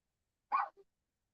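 A single short dog bark, fairly quiet, with a tiny trailing yip after it, in an otherwise silent space.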